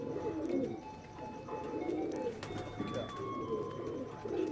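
A breeder pigeon coos repeatedly in a soft, rhythmic series of low throaty calls, close and fairly quiet, with faint background sounds between the coos.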